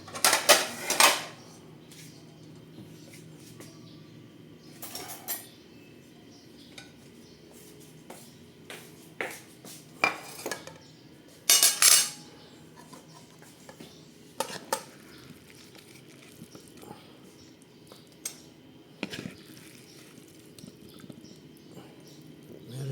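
Egg fried noodles with carrots, egg, kikiam and chicken breast being served onto a plate, with intermittent clinks and scrapes of cutlery against dishes, close and fairly loud, spaced irregularly amid quiet background.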